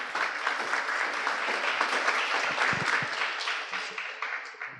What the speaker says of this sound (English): If you could give Daniel a warm welcome and round of applause.